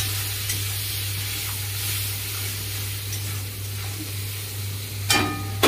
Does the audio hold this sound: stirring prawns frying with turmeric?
yes